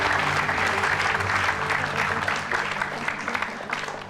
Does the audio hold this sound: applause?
yes